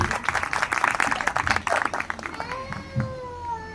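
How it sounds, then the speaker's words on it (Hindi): Congregation clapping at a Good Friday church service, a couple of seconds of brisk crowd applause that fades out as a voice begins speaking over the tail. "आए खुदावंद यीशु मसीह के जलाल के लिए जोरदार ताली बजाएंगे।"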